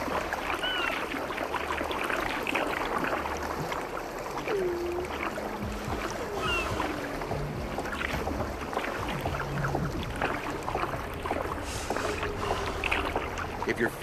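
Kayak paddling in an Arctic virtual reality game, steady water wash and paddle swishes with faint wind, a few soft animal-like calls, continuous and moderately quiet throughout.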